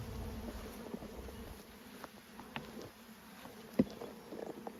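Bees buzz around stacked hive boxes in a garden, a faint, steady outdoor hum that carries on throughout with a few soft knocks and one brief sharp tap near the end.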